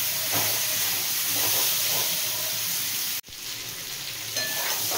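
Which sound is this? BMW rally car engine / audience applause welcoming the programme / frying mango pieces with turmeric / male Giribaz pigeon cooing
frying mango pieces with turmeric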